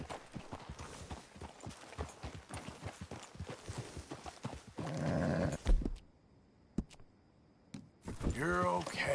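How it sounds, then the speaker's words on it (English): Horse hooves clip-clop in a Western video game, a rapid run of hoofbeats under game voices that slows, followed by a few isolated steps and a snort or whinny near the end. "get a hold of that horse, will you?"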